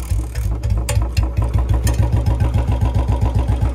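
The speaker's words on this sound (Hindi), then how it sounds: "तो मैं करता हूं बाइक को स्टार्ट" Royal Enfield Bullet 350 motorcycle engine starting and settling into idle, a loud, close, steady thump-thump beat after a brief rough catch at the start.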